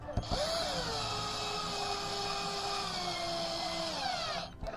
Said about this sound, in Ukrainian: зараз ще підтягнемо викруткою, щоб нам різьбу не зірвати